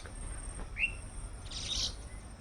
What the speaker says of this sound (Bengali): পাখি ডাকছে কত রকম পাখির ডাক শোনা যাচ্ছে